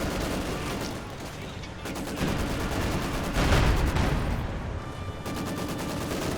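Dense, continuous battlefield firing in Company of Heroes 2, with heavy booms from artillery and a 152 assault gun amid rapid gunfire, loud and relentless throughout.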